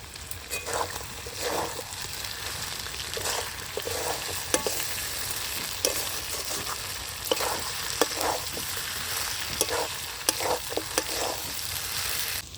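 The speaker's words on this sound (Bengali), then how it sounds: "মাংস ভালো করে কষানো হয়ে গেছে।" Meat frying in a pan with ground coriander, cumin and black pepper paste, a steady close sizzle broken by repeated scraping stirs of a spatula and small splattering bursts, no voices.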